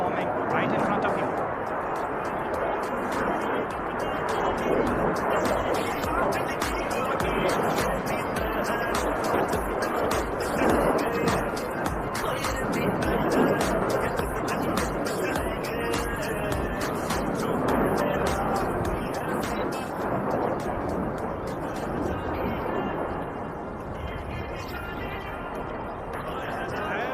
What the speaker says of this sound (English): Sukhoi comes in for a series of roll